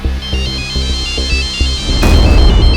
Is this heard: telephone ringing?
yes